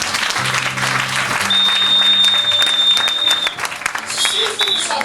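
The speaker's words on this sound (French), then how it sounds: "Est-ce qu'on va acclamer le Seigneur?" A church congregation applauding to acclaim the Lord, loud sustained clapping with crowd voices and cheers mixed in, swelling and continuing to the end.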